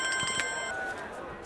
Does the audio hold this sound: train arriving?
no